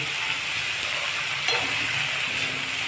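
Fresh fenugreek leaves sauté in a hot pan for mixed-greens parathas, giving a steady, close, continuous hiss of frying with a brief stirring scrape midway and no voices.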